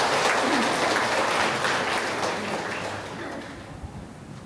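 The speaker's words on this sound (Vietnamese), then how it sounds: "Chúng ta cùng nổ một tràng pháo tay để chúc mừng cho anh chị." A church congregation applauds during a Catholic wedding mass, a full burst of clapping that gradually fades out over a few seconds in a reverberant hall.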